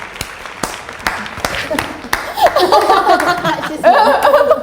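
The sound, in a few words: audience applause and laughter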